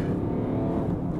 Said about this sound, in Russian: именно с места машина срывается более чем достойно